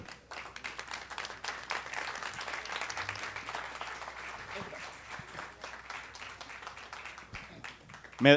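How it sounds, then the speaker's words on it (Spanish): An audience applauds to welcome a speaker before a talk, a moderate spread of clapping that swells and then holds, with a voice talking over it and a louder burst at the very end. "les pido un fuerte aplauso a Martín López Brig"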